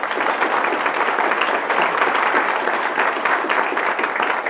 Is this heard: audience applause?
yes